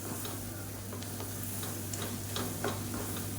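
Kashmiri chili powder fries in hot oil while being stirred, giving a steady close sizzle with light scraping ticks from the spoon against the pan.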